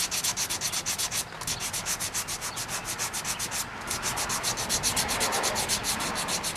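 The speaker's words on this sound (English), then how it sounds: "Just sit now and just sand away." Spackle on a composition doll is hand-sanded in quick, rhythmic back-and-forth rubbing strokes, close and steady, with two brief pauses and no talking.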